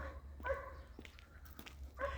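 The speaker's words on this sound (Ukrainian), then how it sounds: "Собака перегавкує," Two quiet dog barks sound from a distance, about a second and a half apart, over a low hum with faint clicks between.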